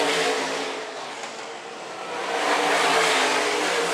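Stock car racing engines roar loudly and steadily at Phillips County Raceway during a main event, the sound dipping slightly, then swelling again as cars pass close by, with no voices.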